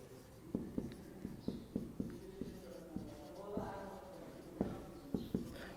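Marker or chalk writing on a classroom board during a physics lesson on equations of motion, a series of quiet taps and strokes at an irregular rhythm over faint room noise.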